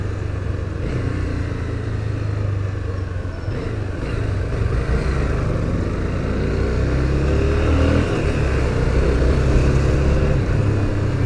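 Steady low engine rumble of a motorcycle idling and running nearby for several seconds, with no talking.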